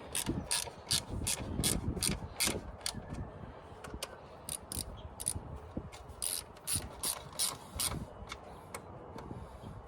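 Ratchet wrench tightening 8 mm bolts on the CCV filter cover of a Dodge 5500 with a Cummins 6.7 diesel, rapid bursts of close, crisp clicking in quick repeated strokes with short pauses between.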